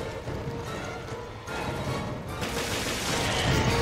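Sustained gunfire in the video game Resident Evil: Revelations, loud, dense and continuous shooting with overlapping shots and a brief dip before it picks up again, no talking.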